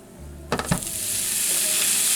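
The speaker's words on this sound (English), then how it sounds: "now we'll put in the ground beef" Ground beef dropped into a hot skillet with peppers and onions, a couple of soft thuds and stirring scrapes giving way to a steady, rising sizzle of frying meat close by, with no talking.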